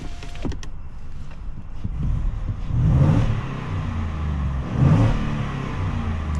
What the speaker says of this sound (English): you have a 5-liter V8 that sings to you